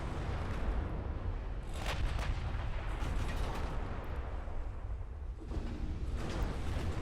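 Battleship main guns firing in a naval warfare game, heavy booming blasts rolling under a constant low rumble, with separate thunderous salvos landing near the start, in the middle and toward the end.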